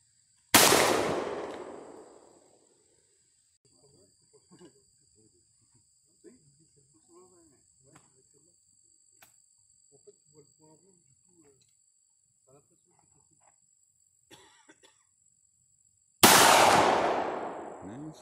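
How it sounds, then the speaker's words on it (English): Gunshots from people shooting nearby outdoors, two loud sharp blasts separated by a long gap, each ringing out and decaying over a couple of seconds, with faint insect chirps and quiet sounds in between. "some guys down here shooting"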